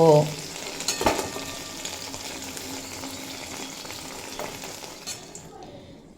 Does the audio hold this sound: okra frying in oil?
yes